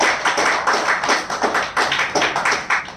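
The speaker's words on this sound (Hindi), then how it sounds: "तो चाहूंगा एक बार जोरा ताली कंपनी के इतना बड़ा अप्रोच के लिए" Audience applause at an indoor business presentation, a dense run of rapid claps with steady rhythmic pulses, fairly loud and close, with no talking over it.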